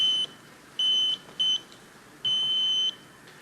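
A high electronic beeping tone from a detector sounds in several bursts of uneven length, with short gaps between them, clear and close.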